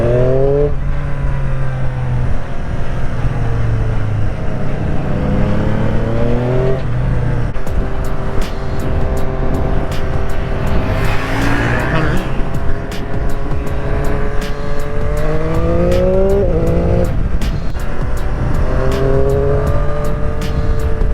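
A 2021 Triumph Street Triple RS motorcycle engine under riding, loud and continuous, with repeated rising revs through the gears and brief drops on shifts, ticking and wind noise throughout, no talking.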